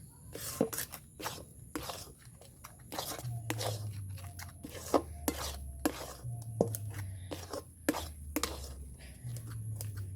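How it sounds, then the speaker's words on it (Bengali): Semolina cooked and stirred in a pan for a sweet made from palmyra palm fruit, heard as repeated sharp scrapes and knocks of a utensil against the pan with soft clatter between, close and fairly quiet, with a low hum behind. "সুজিটাকে আমি ভালো করে রান্না করে নেব তার সাথে নেড়ে চেড়ে ভালো করে রান্না করে নেবো"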